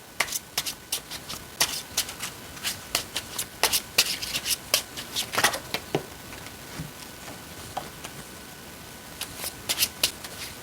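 Tarot cards are shuffled by hand close up, with crisp riffling and slapping bursts in uneven clusters, then sparser taps and flicks toward the end, with no talk.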